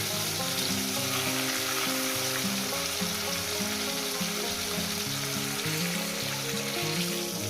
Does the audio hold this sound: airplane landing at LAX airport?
no